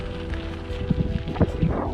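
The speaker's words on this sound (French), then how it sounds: "Là il fait froid, il y a un peu du vent en plus" Cold winter wind at North Cape in the far Arctic north, a steady loud rumbling buffet against the microphone with gusty swells throughout.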